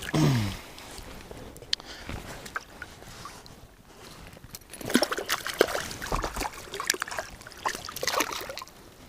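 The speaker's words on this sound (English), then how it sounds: "Let's wet our hands a little bit." Water trickles and splashes softly at a stream on a hot day as hands are dipped and wetted, with irregular close splashes and gurgles over a running-water background and no talking.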